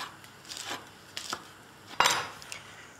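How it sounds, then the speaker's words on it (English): A knife slices capsicum on a board in a few quiet separate cuts, the last a sharper crisp stroke, close and faint with no talking. "What I'll do now is just slice this into the same size as that onion."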